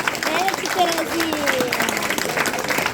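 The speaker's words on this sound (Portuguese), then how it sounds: "Aplauda quem está do seu lado." A church congregation applauds during a sermon, a dense wash of clapping filling the hall while voices and a preacher's speech carry over it.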